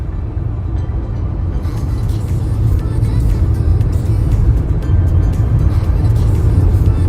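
Steady loud road roar inside a car on an Australian highway between Mission Beach and Townsville, swelling into a broader rushing wash as another vehicle overtakes on the right and stays close, with no voices.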